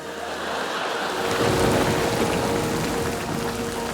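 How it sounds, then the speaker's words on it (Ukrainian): Steady broadband patter of rain, like drops falling on a surface, building slightly and continuing evenly, with no voices. "О, пішов дощ."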